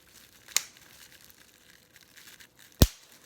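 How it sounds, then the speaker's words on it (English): Two sharp, brief crinkling snips of plastic bubble wrap being cut with scissors for a recycled-art craft, spaced a couple of seconds apart against near silence. "I'm gonna make my bubble wrap a little smaller."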